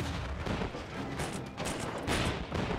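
Sustained bursts of enemy gunfire in the PS4 game Knack, loud and dense, with rapid shots blending into a continuous rattle.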